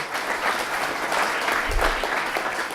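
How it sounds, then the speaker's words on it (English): An audience claps steadily together at a moderate level on a count of four, a dense continuous patter from many hands filling the room, with a brief low thump near the middle. "So give me a number 4 clap, a little louder."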